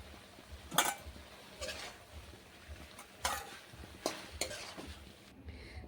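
Boiled pumpkin greens and potatoes tipped out of a cooking pan: several sharp metallic clanks and scrapes of a spoon against the pan, spaced irregularly over faint background hiss, close and fairly loud, with no voices.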